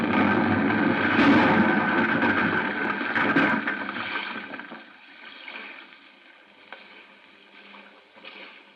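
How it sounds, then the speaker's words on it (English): A booby-trapped cruiser boat blows up in a 1955 radio drama, a loud, dense roaring blast that rumbles for about four seconds, then fades into quieter crackling debris and settling noise. "Blown to bits. Booby trap."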